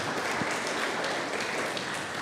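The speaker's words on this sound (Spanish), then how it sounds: "Aplauso, por favor, para ellos" An audience applauds members of a women's football club being presented to the crowd, a dense, steady wash of clapping throughout the short stretch, with no voices over it.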